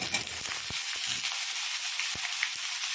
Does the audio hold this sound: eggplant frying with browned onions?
yes